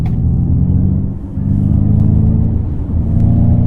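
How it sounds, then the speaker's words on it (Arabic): Synthetic propulsion sound from a Ford Mustang Mach-E electric car, a steady low rumbling drone with a brief dip in the middle, heard alone and fairly loud without talk. "اللي يحسسنا بالقيادة الرياضية هو شيء اسمه propulsion sound، واللي هو صوت المحرك."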